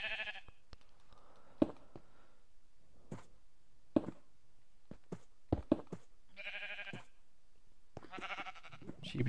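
Minecraft sheep bleat in a few short, nasal calls scattered among clicks and small thumps, fairly close and moderately loud, with a person chattering in between.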